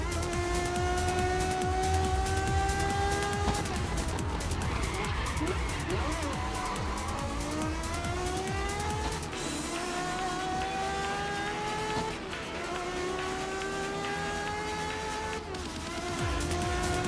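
Race car tires skid and squeal through a corner in the racing game GRID Legends, long rising engine tones layered over sliding rubber, loud and continuous under a voice talking.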